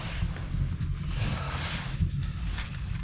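Strong wind buffets the microphone at a cold outdoor gold-mining camp, a steady, loud low rumble with gusting swells and no voices.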